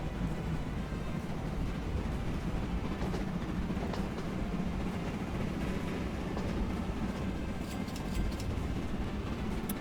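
A fast high-powered train in the game Train Fever rushes along the track, its steady loud low rumble running unbroken with faint rail clatter and occasional light clicks, no voices.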